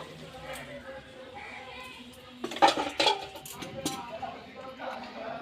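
A cooking pot of shukto, a Bengali vegetable dish, is lifted off a kitchen stove with a short cluster of sharp metallic clanks and scrapes midway, set against quiet background room noise.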